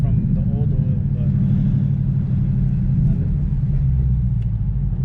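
A low, steady engine rumble from a 2014 Mustang GT on a test drive around the block after a transmission gear oil change, running continuously under a person talking.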